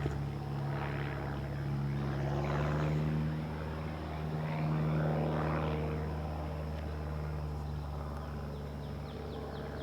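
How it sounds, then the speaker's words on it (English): A propeller plane coming in to land drones steadily nearby, its engine hum rising and falling slightly as it passes, continuous throughout without any voices. "Hear that airplane coming in to land."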